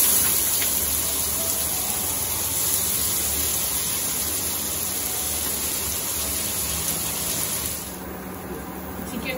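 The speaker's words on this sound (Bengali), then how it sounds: "দেখো তোমার বৃষ্টি ঝম করে পড়ছে, আওয়াজ শোনা যাবে" Heavy rain pours down on a cloudy afternoon at home, a dense, steady hiss filling the whole stretch before easing a little toward the end.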